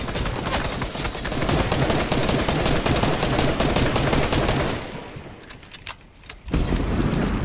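Rapid bursts of automatic gunfire from a Fortnite match crackle loud and dense for several seconds, briefly dropping away before the shooting resumes, with no talking over it.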